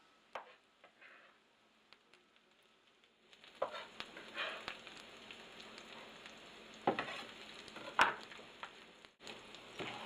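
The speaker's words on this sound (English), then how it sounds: "we're just stirring them into the mix with the olive oil and the corn tortillas" Onions and corn tortillas sizzle in olive oil for migas, a steady frying hiss that swells partway through, punctuated by scraping stirs and occasional sharp clinks close by.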